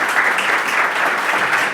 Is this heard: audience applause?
yes